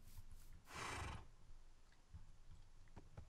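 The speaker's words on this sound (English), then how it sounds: "There is a horse, though. I'm gonna jump on this horse." A horse in the Minecraft video game gives a single loud, bright whinny about a second long, followed by fainter scattered game clicks and footstep-like taps.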